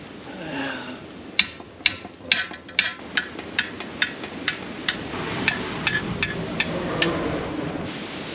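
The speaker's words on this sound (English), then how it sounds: "So let's start hammering, I guess." Steady metallic hammer strikes on a TJ Wrangler front axle part, about a dozen sharp blows at an even pace, ringing over a rushing background hiss.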